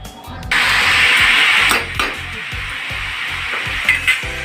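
Bottle gourd being made into a curry with fried lentil dumplings and coriander leaves, hissing loudly as it hits hot oil in a pan, then sizzling steadily under a repeated scrape of stirring, with a brief quiet voice.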